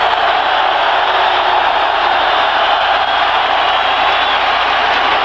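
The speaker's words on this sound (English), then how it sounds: "Crowd imploring the Cowboys to get with it." A stadium crowd at a 1993 Eagles at Cowboys game, urging on Dallas: a dense, constant roar that holds loud and even throughout.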